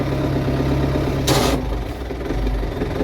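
A tractor engine idles steadily and close, a continuous low rumbling chug with a brief brighter hiss partway through, no talking.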